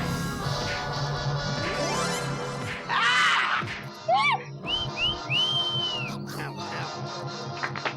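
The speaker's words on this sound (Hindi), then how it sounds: "ऐसे फिल्म देखते वक्त सीटी बजाना चिड़ियाघर के संस्कार नहीं है।" Someone whistles at a film on TV in a comedy scene, with short rising and falling whistle tones over busy background sound and a few sharp knocks, fairly close and moderately loud.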